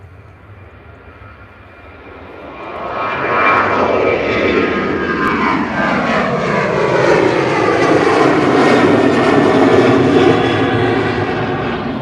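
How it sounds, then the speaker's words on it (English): A Ryanair Boeing 737 jet at Liverpool John Lennon Airport swells from a faint distant whine into a loud, sustained engine roar, with shifting tones as it passes nearby. "Ryanair 737 on the move as well, off to Dublin."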